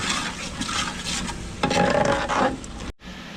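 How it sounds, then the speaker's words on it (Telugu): Ginger paste is stirred into a sizzling curry masala in a hot pan for an allukurma curry with curd, giving a steady close scraping and frying hiss that grows louder midway before a brief cut. "తర్వాత గ్రైండ్ చేసుకున్న అల్లం పేస్ట్ వేసుకుందాం. అంతా కూడా బాగా మిక్స్ చేసుకోవాలి."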